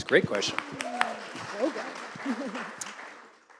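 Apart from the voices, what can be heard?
audience applause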